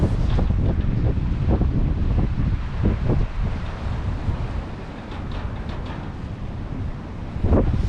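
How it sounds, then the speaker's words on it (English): A northeasterly wind buffets the microphone beside a choppy sea at Cardiff Barrage on the Bristol Channel, with a steady roar and gusty surges over churning waves; no one speaks. "I think it's the northeasterly wind, to be honest with you."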